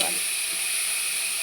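Onions and capsicum fry in a pan with an even, steady hiss of sizzling oil, short and continuous, with no distinct pops.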